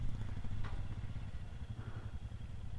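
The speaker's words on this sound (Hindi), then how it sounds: "सोलो राइडर की बाइक फंस गई तो हमारे जो मार्शल हैं वो हेल्प कर रहे हैं निकालने में" A solo rider's motorcycle stuck on a rough Ladakh road near Pangong Lake rumbles at a low, uneven idle while marshals work it free, with occasional clatter over the steady engine drone.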